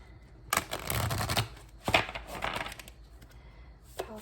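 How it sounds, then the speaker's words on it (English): A deck of tarot cards is shuffled by hand up close, with a long riffling burst, a sharp tap, and then a softer second pass fading out. "I need to shuffle one more time."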